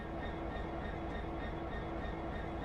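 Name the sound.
American locomotive idling, from a video game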